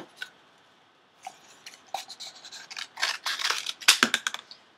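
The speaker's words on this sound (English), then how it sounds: "you're going to cut off from the middle sellotape, right at the top of the middle sellotape, just completely cut this bit off" Scissors snip through paper joined with sellotape while a paper toy gun is being made, giving a close series of crisp cuts that speed up and grow louder toward the end, with no talking.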